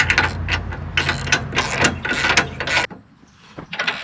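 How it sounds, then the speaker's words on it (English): A ratchet fitted with a 1-inch socket tightens the nut on a single-hitch e-bike rack, giving rapid close clicking in quick bursts with a short pause before more clicks resume. "Take a 1-inch socket on a ratchet."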